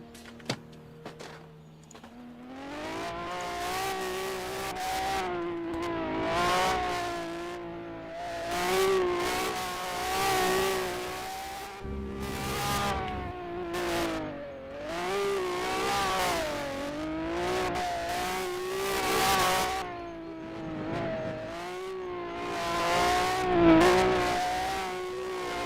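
A time attack race car laps the circuit, its engine note climbing and falling repeatedly as it accelerates, shifts and brakes through the corners. The engine sounds loud and steady with no voices over it.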